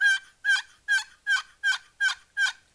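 A wooden turkey box call worked by sliding the paddle across the box, giving seven evenly spaced, sharp yelps close up in an otherwise quiet setting.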